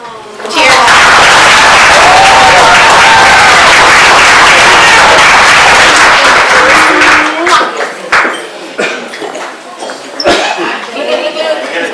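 Wedding guests burst into loud, sustained applause and cheering after the matron of honor's toast, the clapping holding strong for several seconds before thinning into scattered claps, laughter and murmurs.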